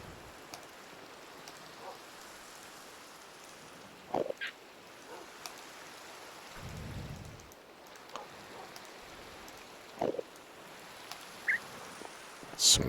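Rain falls steadily in the video game Minecraft at night, a soft continuous hiss with a few scattered louder drops and clicks, with no talking.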